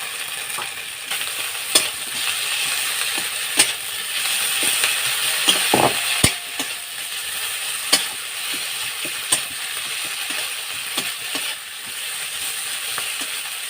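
Ground cumin and coriander paste fry in a pan with tomato and capsicum for a fish curry, a constant hiss and sizzle broken by sharp, regular scrapes of a spoon stirring against the pan.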